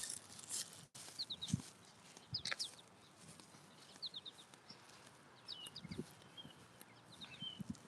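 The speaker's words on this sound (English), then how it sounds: "Listen to these birds." Outdoor birdsong with short high chirps and trills scattered through the scene, faint against a quiet, noisy background with a few low thumps and footstep-like sounds.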